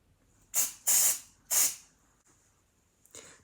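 Three short hissing blasts of hairspray from an aerosol can, the second longest, close and fairly loud, followed by a faint brief spritz near the end.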